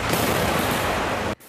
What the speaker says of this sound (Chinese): 子弹连发，炮火猛攻